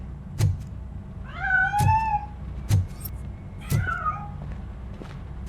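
A cat meows twice in RoboCop: Rogue City, each a clear drawn-out mew rising and falling, set against a low steady background hum with a few sharp thunks and clicks scattered between the calls.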